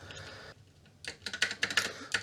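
Quiet stretch, then a burst of crisp clicking keystrokes on an Apple IIe computer keyboard, irregular and close, with sharp individual key hits picking up toward the end.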